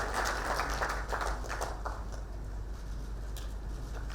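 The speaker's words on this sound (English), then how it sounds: "More hearty clap." An audience at a regional heads-of-state summit applauds steadily, a dense continuous patter of clapping at moderate distance that fades slightly toward the end.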